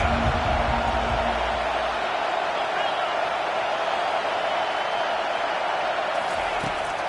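Stadium crowd roar from the College Football 25 video game, a steady broad wash of noise lasting throughout, with a low rumble fading early on.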